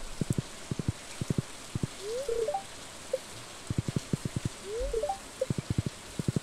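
Steady rain hisses in the farming video game Stardew Valley, with rhythmic character footsteps and short chirping game sounds over it.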